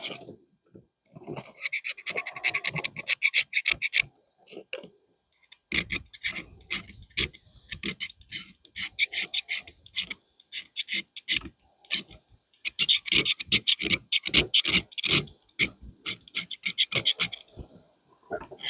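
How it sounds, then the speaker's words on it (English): A Leatherman blade scraping magnesium off a pull-string fire starter: bursts of sharp, rapid rasping strokes in quick repeated runs with short pauses, close and crisp, no talking. "I'm just gonna scrape off some of this magnesium"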